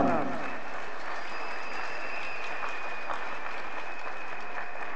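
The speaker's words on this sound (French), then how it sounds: "Il s'avance sous les acclamations," Steady, dense applause from a church conference crowd fills the whole stretch, with a voice rising through it near the start.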